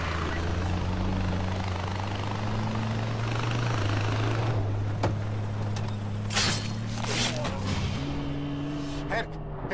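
A helicopter from the video game Far Cry 4 drones with a steady low rotor hum that shifts pitch partway through, with a few sharp clicks and bursts on top.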